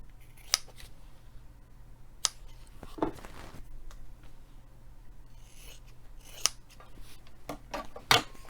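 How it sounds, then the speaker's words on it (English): Scissors snip sewing threads in several sharp, separate clicks spread over a few seconds, heard close and crisp over a low steady hum, with faint rustling of fabric between cuts. "So I'm going to trim this a little more. Trim my threads."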